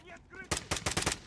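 Minigun fire in the Call of Duty: Modern Warfare campaign, arriving after a brief stretch of quieter sound as a rapid series of sharp, loud bursts that stack up over about three quarters of a second.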